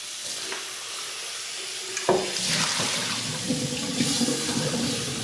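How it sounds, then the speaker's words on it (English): Tap water runs into a kombucha container, splashing and sloshing as it fills, with a sudden knock near the start of the flow. "And I'm just going to rinse this out."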